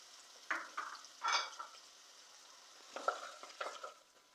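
Onion fries in hot ghee in a kadai, with soft sizzling beneath bursts of stirring and spatula scrapes in two clusters, separated by a quieter pause.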